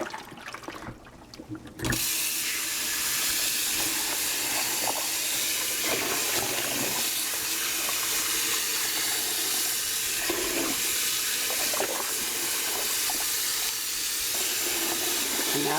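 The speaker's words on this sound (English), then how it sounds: "Rinse the water off." Tap water runs hard and steady over a pork shoulder roast in a sink, a loud continuous rushing hiss that starts abruptly after a quiet moment and carries on unbroken to the end.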